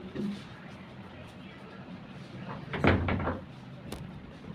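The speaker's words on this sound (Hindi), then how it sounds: "दरवाजा बंद करना।" A door is pushed shut with a single muffled thud partway through, and a faint voice is heard in the room around it.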